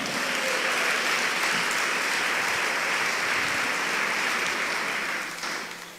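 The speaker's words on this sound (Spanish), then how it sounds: "Dele ese aplauso al Señor." A church congregation applauds during an international convention service, giving a dense, sustained wash of clapping that holds steady and then fades toward the end.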